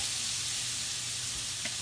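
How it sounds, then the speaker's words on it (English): A hash brown fries on butter in a hot pan, giving a loud, even, continuous sizzle close up with no talking. "We're gonna place the hash brown right on top of the butter,"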